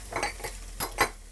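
Sausage meat being broken up in a pan with a wooden spatula, a few short scraping and tapping strokes in quick succession over a faint sizzle.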